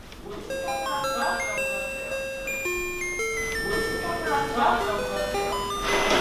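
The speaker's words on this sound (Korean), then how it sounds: "수업 종소리가 나에게 자유를 준 거야" A school bell plays a chiming melody, a sequence of clear, sustained tones, steady and fairly loud throughout, with voices faintly underneath, in a comedy sketch.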